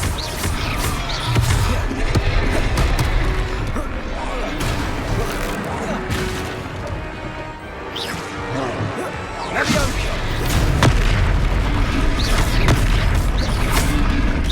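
Confringo fire-spell blasts in the Hogwarts Legacy video game, with loud, continuous booms, crashes and whooshes filling a chaotic duel while voices speak over the fighting.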